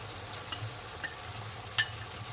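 Spice paste frying in a pan for chicken biryani gives a steady low sizzle throughout, with a few soft stirring scrapes and one sharper clink near the end; no one speaks.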